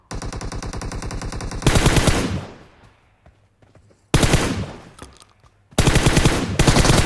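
Rapid automatic gunfire from a first-person shooter video game, delivered in three loud sustained bursts separated by short pauses, with no talk over it.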